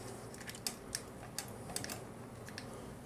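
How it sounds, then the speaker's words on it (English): A toy robot's arm, on a Sentinel Riobot R-17 Shin Getter 1 figure, clicked into place with a run of small, sharp plastic clicks, close and fairly quiet over a soft background hiss. "Click the arm on."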